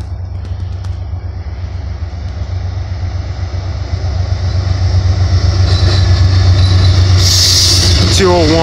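Amtrak Coast Starlight number 14, a passenger train headed to Seattle, rumbling past in West Sacramento with a steady loud low drone that swells toward the end, plus a brief high squeal at the close.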